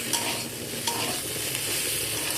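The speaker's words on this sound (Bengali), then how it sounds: "আদাটা দিয়ে আরও ভালো করে নাড়াচাড়া করে নেব" Grated ginger and pumpkin are stirred in a hot pan, with a continuous close sizzle and a few light utensil scrapes and taps, and no talking.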